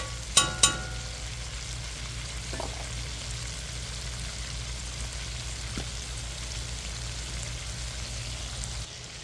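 Pork and pork jowl bacon crisp in a pan with a steady, dense sizzle. Two sharp clanks come near the start and a faint tap comes later. No one speaks.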